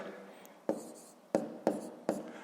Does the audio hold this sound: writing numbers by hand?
yes